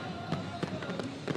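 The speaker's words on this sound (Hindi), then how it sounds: "आतिशबाजी भी हो रही है" New Year fireworks at Port Grand, Karachi, heard as a few scattered pops and cracks over a dense, steady crowd and music wash.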